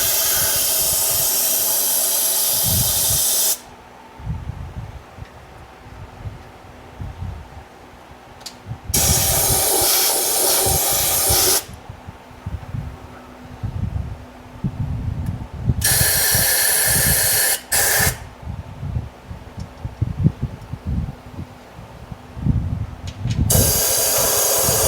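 Repeated bursts of loud spraying hiss as WoolWax undercoating is sprayed through a hose into a vehicle, several seconds each, separated by quieter stretches of mechanical rumble and clatter.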